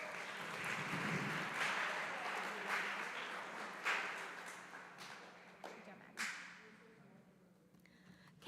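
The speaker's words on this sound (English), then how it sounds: "Let's give them a round of applause." Audience applause in a high school gym at an academic awards ceremony, a steady crowd of clapping that fades gradually, leaving a few scattered claps and a faint steady hum near the end.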